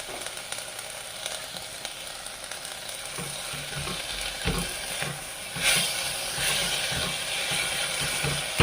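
Continuous sizzling and crackling of onion and tomato frying in hot oil in a pressure cooker, with a few clinks of stirring and a brief louder hiss partway through.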